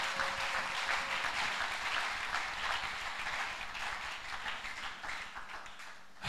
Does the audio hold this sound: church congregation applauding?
yes